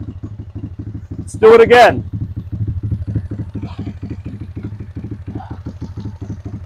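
A GY6 scooter engine idles steadily with a fast, even putter after a carburetor install, choke dropped, while someone speaks briefly over it near the start.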